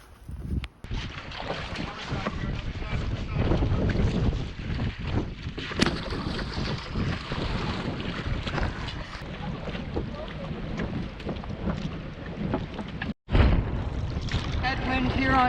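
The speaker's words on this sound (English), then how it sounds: "Headwind here on Daisy Lake." Headwind gusting across a lake during a spring canoe trip, steady wind buffeting the microphone alongside water and paddling noise, with a few sharp dropouts.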